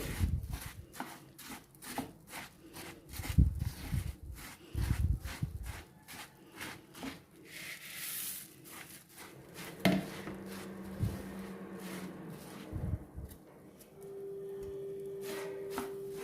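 Puffed rice stirred into hot jaggery syrup for old-style laddus: close, irregular crunchy rustling and scraping with sharp spoon taps against the vessel, and a steady low hum entering near the end.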